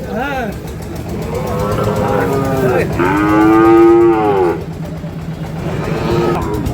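Several calves, Sahiwal breed, moo loudly and repeatedly close by at Ambari cattle market, long drawn-out calls overlapping with people talking and faint passing traffic.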